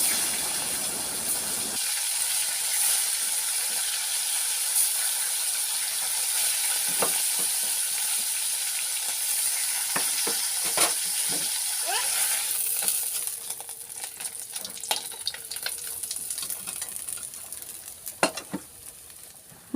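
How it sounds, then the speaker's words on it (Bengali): Fish fries in hot oil in a kadai, giving a steady loud sizzle and hiss throughout. Scattered clinks and stirring sounds join in, and the frying settles somewhat in the later part. "আমি আরো কিছুটা মাছ ভেজে নেব।"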